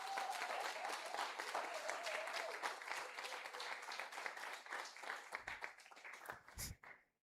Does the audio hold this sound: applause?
yes